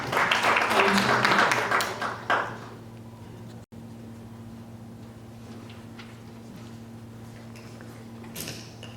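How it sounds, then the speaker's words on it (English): Conference audience at a women's day event clapping hands in a dense burst of applause for about two seconds, then fading to a quiet room hum with scattered faint knocks. "So we clap hands for Usisi Utobek."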